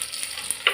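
Spices tempering in hot oil for paruppu kootu, a soft steady sizzle with light stirring scrapes and a brief louder crackle near the end, close and alone without talk.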